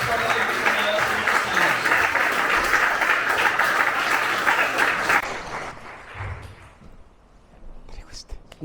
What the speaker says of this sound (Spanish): así que por favor denle un aplauso, por favor,